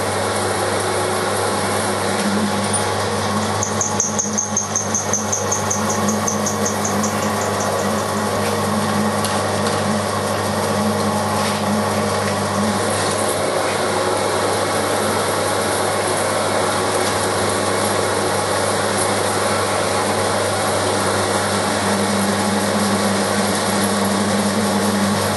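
A milling machine cuts a metal workpiece in a home shop, giving a steady, loud machining whine that runs unbroken throughout with no talk.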